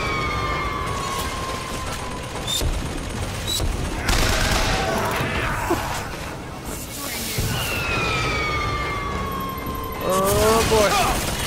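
Gunfire in BioShock Infinite comes as scattered sharp volleys amid busy game noise, with siren-like rising and falling tones and mechanical clatter, with a heavy burst near the end and talking over it.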